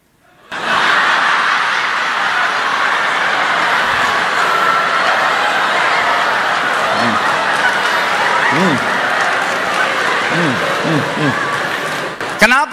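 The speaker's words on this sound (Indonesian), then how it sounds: "Kenapa ketawa dan tepuk tangan?" A church congregation laughs and claps in a steady, dense wash of crowd noise that carries almost unbroken from start to finish, with a few brief voices rising out of the mix.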